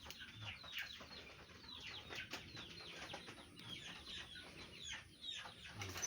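Chickens on a small farm raising poultry and ducks, repeated soft clucks and short calls scattered across a moderate outdoor background, fairly close.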